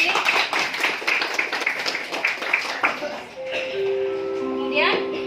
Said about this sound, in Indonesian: Tepuk tangan buat Bupa dan Rudi.